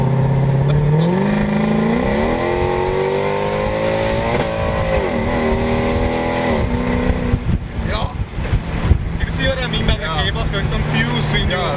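A Mercedes-Benz CLK63 AMG automatic accelerating hard uphill on a road, engine note climbing in pitch through rising revs with a shift partway, loud from inside the car while people talk over it.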